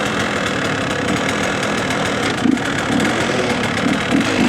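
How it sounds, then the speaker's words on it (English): A manual motorbike engine runs at a steady idle, a continuous close, mid-pitched rumble with a faint rhythmic knock and no talking. "You want to start the bike like that. Engage the clutch."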